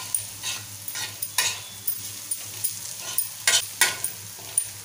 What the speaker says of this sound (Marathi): छान मिक्स करूया। छान परतून घ्यायचं आपल्याला।